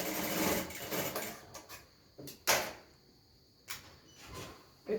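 A sewing machine runs in short bursts while stitching the side seams of a rope gown, a longer run at the start followed by brief stops and restarts, close and fairly quiet.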